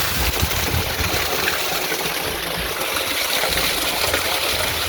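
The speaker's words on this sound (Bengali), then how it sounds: "এখন আমি আমাদের মোটরের দিকে আপনাদেরকে দেখাই যে পানি কি স্পিডে উঠতেছে" Water from a 3 hp solar-powered pump gushes out at full flow, a loud, continuous, dense rushing roar held steady throughout with no voices.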